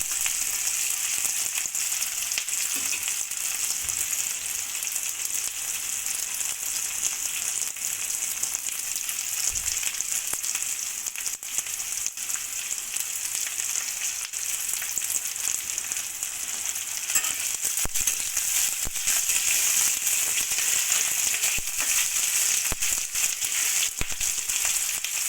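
Onions frying in a pan until lightly browned, for a chicken dish, with a loud continuous sizzle that holds steady throughout and no voices over it.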